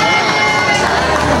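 A large crowd roars and cheers continuously, a dense wall of shouting voices that stays loud and steady throughout.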